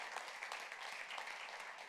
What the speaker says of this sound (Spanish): Le das ese aplauso al Señor